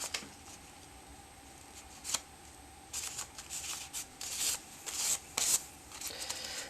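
Crisp paper rustles and rubs close by in short bursts, with sharp crinkling and creasing sounds as a thin paper doily is folded and handled.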